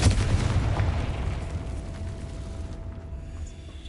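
A Confringo fire spell blasts in Hogwarts Legacy, a loud booming burst that starts at once and then rumbles and decays slowly over several seconds.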